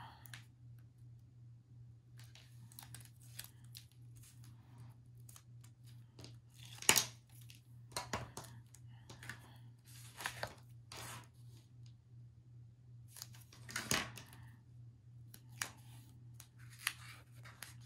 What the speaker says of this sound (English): Let's get my other scissors.